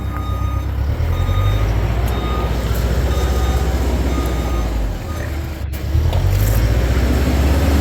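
An EZG HP 20 grout pump starts up and runs with a loud, steady low engine drone that briefly dips before surging back, with faint beeping in the background.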